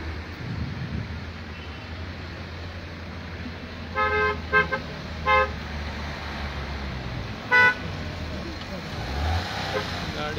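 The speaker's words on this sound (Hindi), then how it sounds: "और यहाँ लग चुका है जाम।" A traffic jam on a mountain road near a landslide, with idling vehicles rumbling low and several short car horn toots sounding at a moderate distance, while people talk over the scene.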